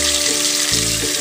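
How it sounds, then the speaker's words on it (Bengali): Tilapia fish fry in hot oil with a loud, constant hissing sizzle up close, accompanied by a low steady hum underneath. "বাকি মাছগুলোকেও আমি ওই একইভাবে ভেজে নেব"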